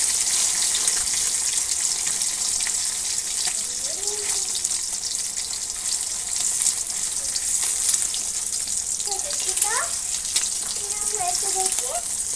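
An egg fries in oil in a pan with a constant close crackling sizzle and scattered spattering pops, while brief voices come through over the cooking.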